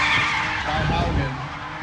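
A Nissan 350Z drifting on a track, its tires skidding in a loud, continuous screech with engine roar close by, lasting the whole short moment.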